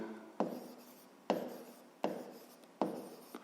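Pen strokes on paper during a fifth-grade maths exercise, four distinct scratchy bursts at a steady pace, each starting sharply and trailing off, close and quiet with no talking.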